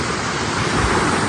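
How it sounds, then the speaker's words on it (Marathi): Waterfall at Ukshi Ranpat crashing down in a steady, loud, broadband roar, with wind-driven spray and no pauses throughout. "ह्या जलधारा कोसळतात किंवा धबधबा जो कोसळतोय"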